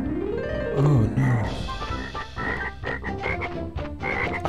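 Cartoonish frog croaks from the video game Crash Bandicoot: Warped ring out clearly and loudly, several in a row, mixed with upbeat game music and effects.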